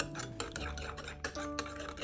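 A spoon stirs chicken marinade in a bowl, quiet rhythmic scraping and clinking in short strokes, close up and alone.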